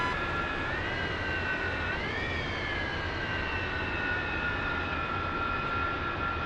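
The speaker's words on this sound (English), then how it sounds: "this is where I'm flying my plane to land it" A JAS-39 Gripen jet in a flight simulator game lines up to land, its engine a steady loud whine with rising and falling tonal pitch over a constant roar, alone without talk.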